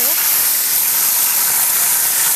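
Mutton masala hitting hot oil in a large pot over a village wood-fired stove, cooking for 150 people, a loud steady hiss like steam, close and constant throughout.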